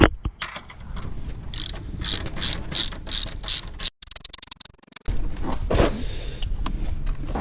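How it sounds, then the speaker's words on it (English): A 50mm deep socket wrench ratcheting on a bicycle's rear wheel bolt, with rapid close mechanical clicking in repeated bursts, a brief pause, then more grinding and ratcheting, no voices. "we're gonna remove this bolt. It's a 50mm, so the best thing to use is a 50mm deep socket"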